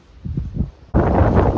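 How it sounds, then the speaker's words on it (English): Low rumbling gusts buffet the microphone outdoors on the Greek island of Rhodes, then a sudden loud roar of wind noise takes over and stays steady. "It looks beautiful out, but it's windy"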